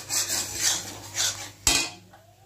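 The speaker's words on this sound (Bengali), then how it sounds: "এই হলুদ গুঁড়োটা দিয়ে দেবো, দিয়ে ভালো করে কষিয়ে নিতে হবে।" Spices and turmeric being stirred in a pan, with a few scraping strokes and a sharp metallic clink of a utensil against the pan, close and alone.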